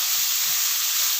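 Onion frying with curry leaves in a pan, a steady close hiss and sizzle of oil without pause.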